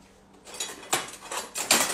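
A metal spoon clinks and scrapes against a pot while akara batter is being mixed, three or four bright, close knocks in quick succession with no talk.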